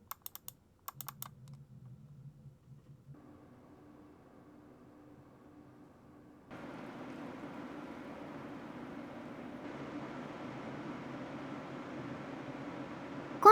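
A gaming PC built around a ZOTAC GeForce RTX 5070 running under load. A few sharp clicks and a low hum give way to a steady broadband fan whoosh that rises midway, then holds, growing slightly louder toward the end.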